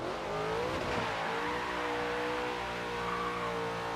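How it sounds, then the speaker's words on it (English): A stock Hemi V8 in a Dodge Dart in Forza Horizon 3, revving steadily and loudly with a deep, continuous drone that rises and falls slightly. "It is a Hemi stock, so it's got a big old engine in there, rearing to roar along"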